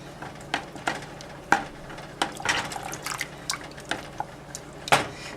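Water is added to a simmering yogurt sauce thickened with cornstarch for shish barak, heard as a series of close drips, splashes and stirring clinks against a pot, irregular and spaced out.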